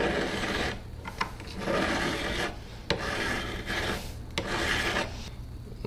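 A hand file rasps across a metal tsuba, the Japanese sword guard, in a series of close, steady back-and-forth strokes with short pauses between them.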